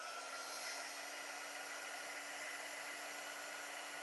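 A hair dryer blows steadily and close by for a few seconds to dry wet paint on a mixed media book cover, with a constant whooshing hum and a faint tonal whine.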